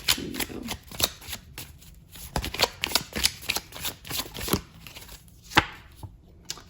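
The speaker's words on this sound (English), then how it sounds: "Let's pull a card for your person." Tarot cards being shuffled by hand, with a quick run of crisp riffling snaps and flutters repeating in bursts, close and clear with no talking.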